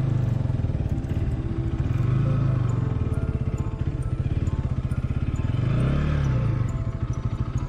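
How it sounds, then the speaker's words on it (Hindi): A Bajaj Pulsar NS200 motorcycle with a broken clutch lever revs hard through acceleration in a top speed run, its engine droning loud and close with rising and falling pitch and steady mechanical clatter. "तो चलिए एक बार बाइक को भगा के देखते हैं कि ये बाइक कितनी टॉप स्पीड अचीव कर पाती है।"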